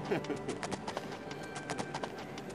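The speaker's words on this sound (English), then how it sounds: "All right, get on your horse." Hooves clip-clop rapidly as a horse runs in the video game Aralon 2, a quick steady rhythm of soft thuds at moderate distance over a light ambient bed.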